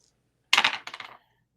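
Dice clatter onto a table during a tabletop role-playing game, a quick rattling tumble of two bursts lasting under a second, close and alone.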